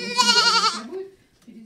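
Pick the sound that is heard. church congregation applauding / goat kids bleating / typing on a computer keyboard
goat kids bleating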